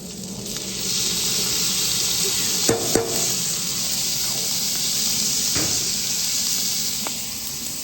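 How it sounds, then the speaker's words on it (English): Ribeye steak with butter sizzling on a hibachi grill, a loud continuous frying hiss with a couple of sharp metallic taps of a utensil partway through. "Now we're going to throw our steak on."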